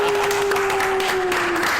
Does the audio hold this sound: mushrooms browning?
no